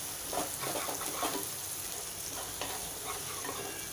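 Turmeric and asafoetida get stirred into zunka in a hot pan, giving a constant close sizzle broken by short scraping strokes of the spoon at an irregular pace.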